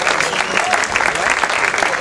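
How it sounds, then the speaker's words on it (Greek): Audience applause at a live jazz festival in Kalamata, greeting the quartet's drummer; a dense, continuous wash of many hands clapping, loud and close, with no talk over it. "Χειροκρότημα για τον Σωτήρη Ντούβα στα τύμπανα."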